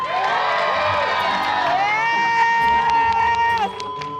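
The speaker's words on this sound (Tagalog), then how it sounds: "Kailangan yung palakpak ninyo, dito sa ating Team Birdie!" A crowd cheers and shouts for Team Birdie on a Filipino variety show, with high excited voices and screams rising and falling, loud and close, then dropping off near the end.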